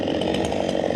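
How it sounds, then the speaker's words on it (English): A chainsaw revs steadily and loudly at a haunted attraction's fear maze, its engine snarl close and continuous without pause. "You've got this crazy old guy with his chainsaw, won't leave people alone"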